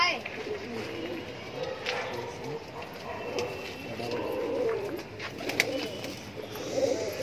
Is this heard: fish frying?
no